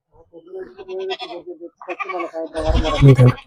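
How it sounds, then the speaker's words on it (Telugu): People talk briefly, then a goat lets out a loud, close bleat, followed by more bleating. "మేకలు ఇప్పుడే వచ్చినాయి తొందరగా వచ్చినాయి"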